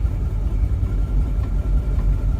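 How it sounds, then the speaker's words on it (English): A 1956 Chevy engine runs steadily, a loud, close low rumble that swells a little as it gets more gas, with no talking. "Give her a little more gas here."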